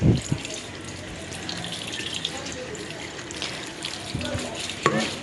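Sticky rice being rinsed under a running tap in a home kitchen, with steady splashing water and a few louder knocks and clatters near the start and end, close and moderately loud.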